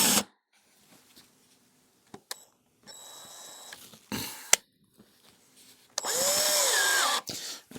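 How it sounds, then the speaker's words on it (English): Several short bursts of a power drill driving wood screws into a plywood sheet, broken by pauses and light handling clicks, the last run longer with a rising whine. "we're just going to tack down this unit onto this piece of plywood so it's not going to go anywhere"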